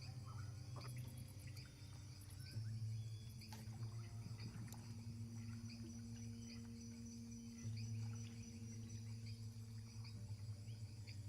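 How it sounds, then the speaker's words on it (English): Crickets chirp steadily in a quiet night-time scene, a faint continuous insect trill with soft, distant background noise and no voices. "Crickets."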